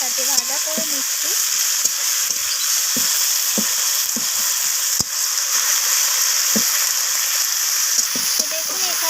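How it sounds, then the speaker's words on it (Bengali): Chopped tomatoes frying with browned onions in a pan for a chicken-scrap curry, a steady loud sizzle throughout with occasional spatula scrapes and knocks against the pan. "টমেটোটাকেও পেঁয়াজের সাথে ভাজা করে নিচ্ছি।"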